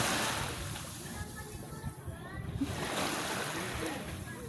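Sea waves at Balayan beach in Batangas wash in a soft, continuous rushing surge, faint and steady, with a short lull midway and a few faint voices in the background.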